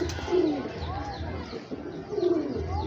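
Lakha flying pigeons coo in soft, repeated throaty rolls, with two clear bursts standing out over a steady background hum and a faint murmur of voices.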